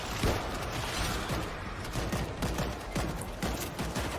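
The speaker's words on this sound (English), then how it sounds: "I'm on the machine gun." Rapid, sustained machine gun fire in a cooperative zombie shooter video game, a dense rattle of shots running continuously from start to finish at moderate loudness.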